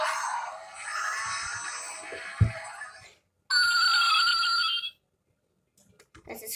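A Tesla Cybertruck toy plays electronic sound effects: warbling synthetic tones in two bursts separated by a short gap, with a clunk, then quiet handling noises.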